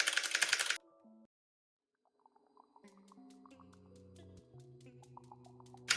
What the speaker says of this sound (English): And clickety-clack as I skip all the dialogue.